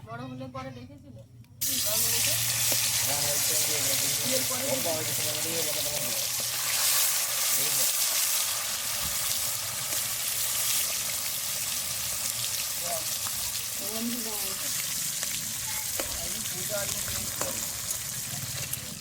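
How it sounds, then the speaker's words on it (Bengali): Steady, loud sizzling and crackling of small sarputi fish frying in hot oil in a kadai fills the whole clip, with a voice talking over it throughout. "এবার মাছগুলো আমি ভেজে নেব।"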